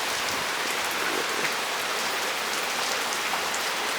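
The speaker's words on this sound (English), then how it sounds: "I'm getting rain blown in here now." Steady rain blown in by gusty thunderstorm winds, a dense, close hiss of drops hitting a surface with no breaks and no talking.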